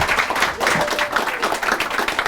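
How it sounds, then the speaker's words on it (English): A showcase audience applauds after an on-stage conversation, giving a sustained round of clapping from many people that rises and falls slightly throughout. "big round of applause for Ivy and Anneke."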